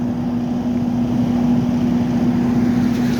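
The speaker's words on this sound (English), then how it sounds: "Get a generator running." A generator runs steadily near construction work on a street, a loud continuous engine drone with a strong, even hum and rough rumble beneath, no breaks or voices.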